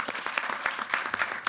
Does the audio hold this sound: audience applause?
yes